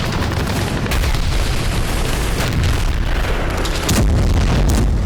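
Wartime bombing and shelling with artillery fire, a dense, continuous roar of booms and blasts, loud and close, with no talk.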